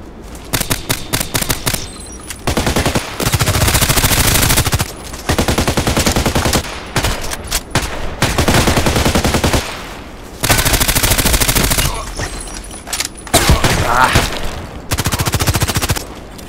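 AS VAL rifle gunfire in the shooter game Contract Wars: loud, close bursts of rapid automatic fire, some short and some sustained for a second or more, separated by brief quiet gaps.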